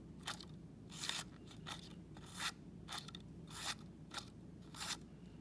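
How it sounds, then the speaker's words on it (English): Scissors snip a paper fringe in a quiet, irregular series of about ten short crisp cuts, heard close up over a faint low background hum. "I'm just moving my scissors over slightly, opening them up and closing them."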